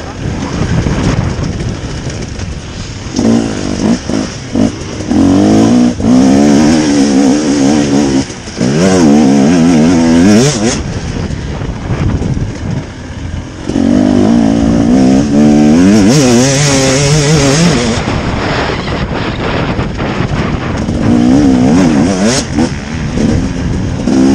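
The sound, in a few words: Husqvarna 2018 motorcycle engine revving while riding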